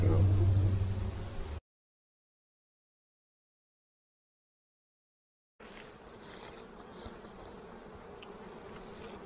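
Honeybees buzzing at a hive after swarming, a steady hum heard close, cut by a stretch of total silence before the humming returns fainter, with a voice briefly present at the start.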